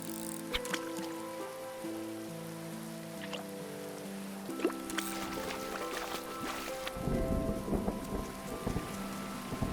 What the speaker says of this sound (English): this is a very inconvenient rain.